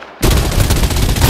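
Rapid automatic gunfire in the mobile shooter Farlight 84, a loud, continuous burst of close shots starting abruptly after a brief quiet moment.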